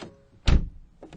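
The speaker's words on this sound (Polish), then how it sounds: "Dźwięk otwierania i zamykania drzwi." A Peugeot 508 SW car door shuts with one solid, close thunk, followed by a softer latch click a moment later.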